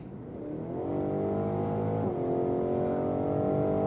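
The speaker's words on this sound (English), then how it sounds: "now you can hear from that twin-turbo V8" A 2026 BMW Alpina XB7's twin-turbo V8 rises in a smooth, steady accelerating drone with a brief dip near the middle as it shifts, heard from inside the cabin with no talking over it.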